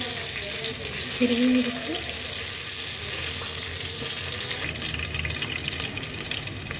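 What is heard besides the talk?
cumin, curry leaves and green chili sizzling in a pan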